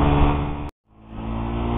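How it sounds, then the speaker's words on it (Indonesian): A Suzuki GSX-R150 with a hesitant throttle response revs hard, cuts out abruptly into a brief gap of silence, then builds back up, close and loud. "Jadi ketika gue tarik gas nih, dia nggak langsung naik."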